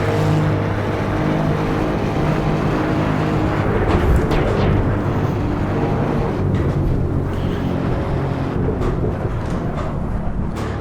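An Alfa Romeo Giulia Quadrifoglio with its 2.9 V6 bi-turbo runs flat out uphill on the Nordschleife, giving a loud, steady high-speed engine and wind roar that holds for about eleven seconds without talk.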